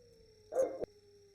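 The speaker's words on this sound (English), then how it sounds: "Sorry, that's my dog." One quick bark from a household pet dog in a quiet room during a tabletop role-playing game session, brief and fairly close, followed by silence.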